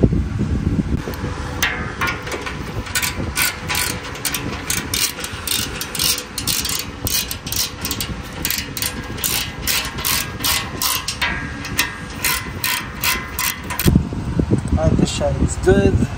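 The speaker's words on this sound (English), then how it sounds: "Now you can just tighten that down." Repeated ratcheting clicks as a hand ratchet tightens skid plate bolts on a Toyota GX470, a steady fast rhythm running nearly throughout, close and fairly loud over mechanical background, with a brief pause near the end.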